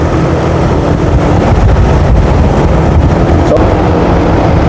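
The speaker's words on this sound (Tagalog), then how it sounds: "papalakas naman ng papalakas ang ihip ng hangin grabe ang lakas ng hangin" Loud, constant rushing wind buffets the microphone on an uphill road during a national elite men's cycling time trial, a heavy roar that never lets up.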